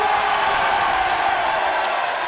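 Wrestling crowd in Doncaster, England, roaring in a dense, sustained wall of cheering and whoops that stays loud and steady throughout, with no clear individual voices standing out.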